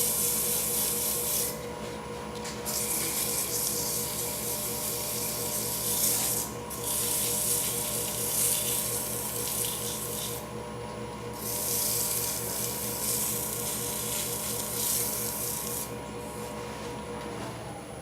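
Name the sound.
sanding a wooden goblet with sandpaper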